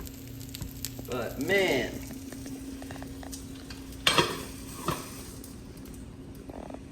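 A jelly frittata with melting cheese sizzles in a lidded pan, a steady frying hiss broken by a brief spoken exclamation and a couple of sharp utensil clinks.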